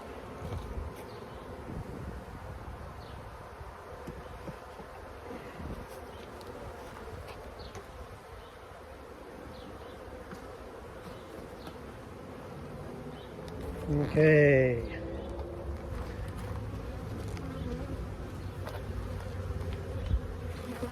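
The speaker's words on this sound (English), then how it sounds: "now the bees are happy again because they have their hole they can go back into" Steady buzzing of many honeybees around a hive during a hive check, a low continuous drone, with a brief louder burst and a single short spoken word midway.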